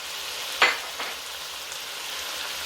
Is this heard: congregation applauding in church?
no